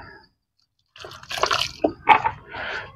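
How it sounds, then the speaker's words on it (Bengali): Water poured and mixed into a wet soil mixture for a bougainvillea, giving short close squelching, dripping bursts after a brief silence. "এবার আমি জল দেবো"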